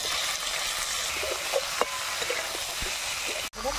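Chicken frying in a pan with a cooked paste of ginger, garlic, cumin and whole dried chilies. A steady, close hiss of sizzling runs throughout, with a few soft knocks and one brief dip near the end.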